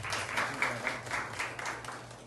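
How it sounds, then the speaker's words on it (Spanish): Graduation audience applauding an introduced official at the Politécnico Yoryi Morel 2020-2021 ceremony, a steady patter of many hands with a few sharper claps standing out, moderately loud and continuous throughout. "Un aplauso para él también."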